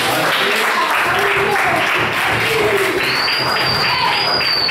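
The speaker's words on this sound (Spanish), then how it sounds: "Aplauso para Fabricio." A class of students gives a round of applause for a classmate, sustained clapping of even loudness throughout with faint room noise and a brief high whistle-like tone near the end.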